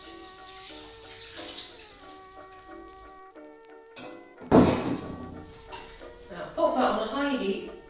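Two litres of water pour into a pot for dandelion jelly with lemons, a short splashing rush that follows quieter kitchen sounds and faint music.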